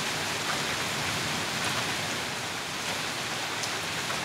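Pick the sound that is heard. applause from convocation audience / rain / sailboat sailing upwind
rain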